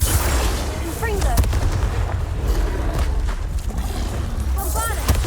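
Confringo explosion spells fired in Hogwarts Legacy: repeated booming blasts and crackling impacts over a dense, loud battle din with magical whooshes throughout.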